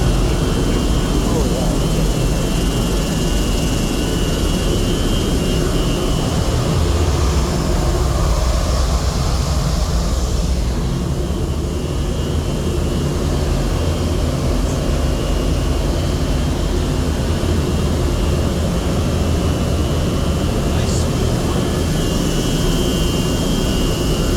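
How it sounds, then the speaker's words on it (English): A roughly 30 horsepower three-phase blower motor for a theatre pipe organ roars steadily and loudly, a dense continuous drone from start to finish. "This is roughly a 30 horsepower three-phase motor"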